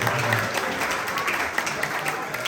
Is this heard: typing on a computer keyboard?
no